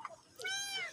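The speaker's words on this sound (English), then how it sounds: "kitty" A cat gives a single clear, drawn-out meow, rising then falling over about half a second, close and fairly quiet after a brief soft sound.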